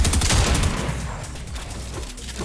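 Shotgun fire in the video game Fortnite: a loud, dense cluster of overlapping blasts that booms and crackles, then slowly tails off.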